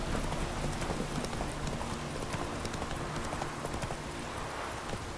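Roach, the horse in The Witcher 3 video game, gallops in a fast, steady run of hoofbeats, a continuous clip-clop rhythm that sits fairly close and clear.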